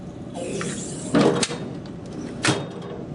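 The top lid of a metal tool box with drawers being opened, sliding and rattling mechanically with two sharper clunks, close and fairly loud, no speech.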